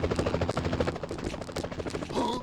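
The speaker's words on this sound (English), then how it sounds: "Enough with the shooting already!" Rapid gunfire in the 2000 Spider-Man video game, a fast pulsing stream of shots with a mechanical whir creeping in at the end.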